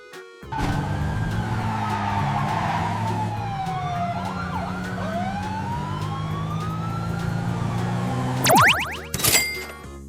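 A police car siren wails with rising and falling sweeps, loud and continuous over engine and road noise, then sharp, high, clipped bursts cut in near the end.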